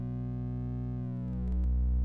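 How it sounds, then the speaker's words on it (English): Synthesized sine-wave bass tone being wavefolded on a West Coast-style modular synth, a steady rich drone with harmonics that swell and crunch over time, loud and alone without voices. "We're starting off with a sine wave, by the way, and I'm folding the waveform over time,"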